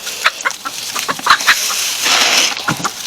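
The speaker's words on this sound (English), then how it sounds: "here's some of the chickens" Chickens in a coop cluck and squawk in short, irregular bursts, several birds close by, with rustling and scraping noises around them.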